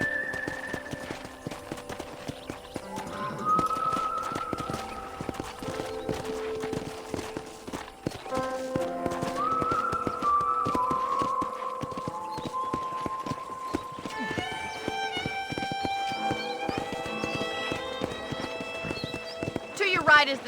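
Horse hooves clip-clop at a steady walking rhythm while riding in Red Dead Redemption, heard beneath a voiced character's talk and a sustained music score, with an occasional neigh.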